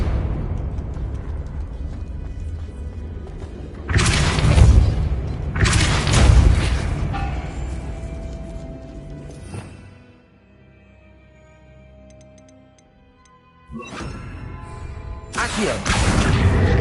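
The Confringo and Depulsor spells cast in Hogwarts Legacy: two heavy booming blasts in quick succession, a quieter stretch, then another pair of loud explosive bursts with whooshing tails.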